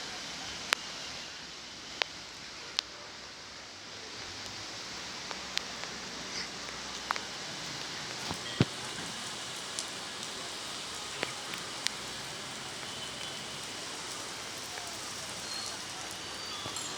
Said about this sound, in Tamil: இன்றைக்கி நம்ம மழை கனமழை வெளுத்து கொட்டிடுறத தான் பார்க்க போகிறோம்